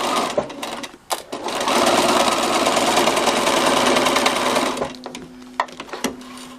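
A sewing machine stitches binding onto a quilt in one sustained, loud, close run of rapid mechanical hum and needle clatter for about four seconds, framed by clicks and handling noises before and after.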